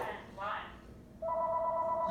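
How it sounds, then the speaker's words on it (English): A telephone rings in a room, a steady electronic ring tone starting partway through after a brief spoken comment, moderately loud and continuing to the end. "Now the phone's ringing."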